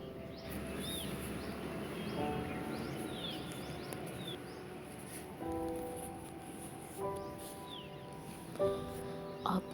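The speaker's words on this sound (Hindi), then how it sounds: "आपको भी चिड़ियों की आवाज़ आ रही होगी।" Sparrows and mynas chirp in a garden in the morning, with faint, scattered calls and a few clearer whistled notes over a low background hum.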